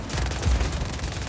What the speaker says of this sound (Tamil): நல்லா நேச்சுரலாக பண்ணியிருக்காங்க அந்த ஷூட்டிங் எஃபெக்ட்லாம்